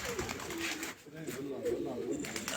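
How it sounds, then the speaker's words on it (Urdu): Racing pigeon that has flown eleven races cooing on a rooftop loft, soft repeated coos throughout under someone talking nearby. "یہ جی ایک پروازی کبوتر جو 11 پروازیں اڑا ہے"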